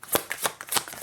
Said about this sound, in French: Je vais tirer une carte